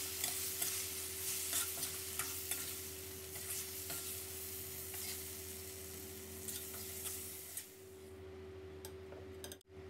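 Tofu tossed with three sliced red chilies in a pan, with steady close sizzling and frequent ticking spatula scrapes that fade toward the end as the heat goes off.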